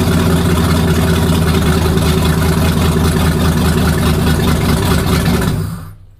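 Car engine with its exhaust not yet installed and no oxygen sensor fitted, idling with a heavy, loping rhythm; loud, steady and close with no talk over it, before it cuts off at the end.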